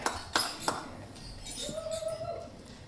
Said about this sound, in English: Raise your glasses, and let's give a toast to Joey and Chloe.